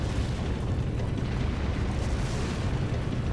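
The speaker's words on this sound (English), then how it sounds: "Oh, tanks are just exploding." Tanks exploding in the video game Trails of Cold Steel make a dense, continuous roar of blasts and rumbling booms that fills the whole stretch at steady, loud intensity.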